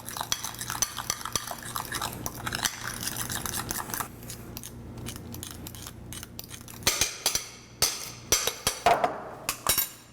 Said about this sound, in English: let's take our fork or whisk and mix it all together